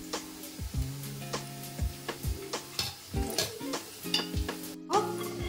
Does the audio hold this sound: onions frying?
yes